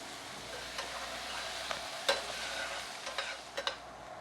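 Onions fry in a pan for a chicken pie, a continuous close hiss and sizzle with a few faint ticks of a utensil.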